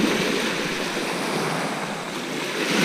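Sea surf washing onto a summer beach at Eastbourne: a continuous broad hiss and wash of waves with some wind buffeting, close and steady throughout, without voices.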